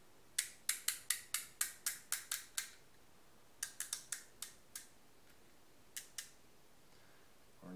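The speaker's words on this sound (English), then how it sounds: "turn cap until clicking stops." A cap is twisted, giving a rapid run of about ten sharp, close ratcheting clicks, then a shorter burst of clicks, and two final separate clicks, faint and alone.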